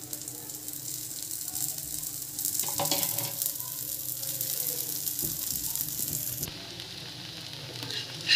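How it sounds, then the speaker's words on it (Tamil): Wheat dosa batter frying in a little oil on a hot pan, a steady close sizzle and crackle lasting throughout with no talking. "கொஞ்சமாக எண்ணெய் விட்டுங்க."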